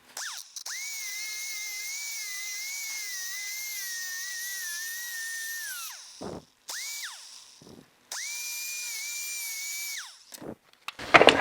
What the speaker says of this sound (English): Now I'm just going to grind this in nicely.